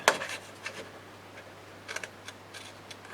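Scissors snipping paper for an 8x5 mini album flip page, a few quiet separate cuts spread out over a faint background hum.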